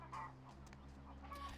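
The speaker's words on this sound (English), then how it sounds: "Why do I keep hearing chickens? Why are there chicken noises?" Chickens cluck in the video game Vampire: The Masquerade - Bloodlines, a few soft, scattered clucks sitting under a steady low game drone and hum.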